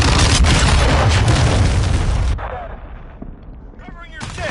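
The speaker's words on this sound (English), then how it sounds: "Hostile cruise missile launched." Cruise missile blast in a video game, a loud booming roar that fills the first two seconds then cuts off sharply, followed by fainter rumble and a short burst near the end, with voices over it.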